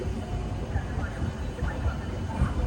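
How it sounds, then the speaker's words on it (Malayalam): A superfast express train rolls into Tiruchirappalli Junction, heard from inside a sleeper class coach as a steady low rumble with soft rhythmic thumps. Faint voices sit under the noise. "തിരുച്ചിറപ്പള്ളി ജംഗ്ഷൻ റെയിൽവേ സ്റ്റേഷനിലേക്ക് ഇതാ നമ്മുടെ ട്രെയിൻ എത്തിക്കൊണ്ടിരിക്കുകയാണ്"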